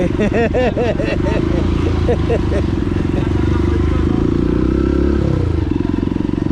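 A motorcycle cutting in roars past close by over steady, loud road and traffic noise, with a brief burst of voices near the start.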